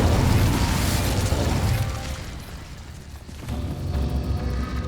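An Incendio fire spell in Hogwarts Legacy goes off as a loud whooshing burst of flame that fades, then a lower rumbling roar follows, with no talk over it.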